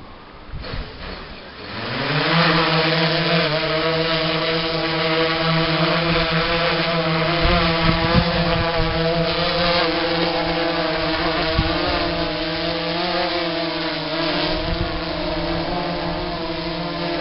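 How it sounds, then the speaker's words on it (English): A UAV drone spinning up for takeoff outdoors, its propellers rising from quiet into a loud, steady, close buzzing whine with a strong harmonic drone that holds throughout. "Okay, so ready for takeoff now."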